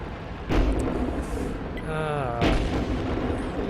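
Hummel artillery shells landing in World of Tanks, two heavy booms about two seconds apart over engine rumble, with a rising whine in between.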